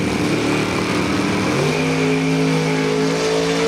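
Drag race cars, one of them a Mustang, launching side by side in a bracket race main event, a loud continuous engine roar that rises into sustained revving tones partway through, with no talk.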